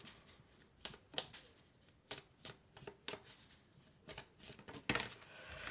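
Oracle cards being shuffled by hand for an elf-themed reading, a quick run of crisp riffling snaps and soft slaps repeating about once a second, close and clear with no talk.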